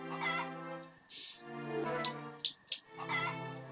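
Chickens in the video game Harvest Moon Friends of Mineral Town, heard as soft game-music tones under several short clucking bursts at a moderate distance, with no talk.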